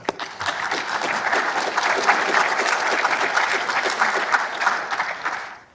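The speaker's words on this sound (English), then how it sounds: "Give them a big round of applause." An audience at a Mars summit applauds, a dense wash of clapping that builds quickly, holds steady and then fades out at the end.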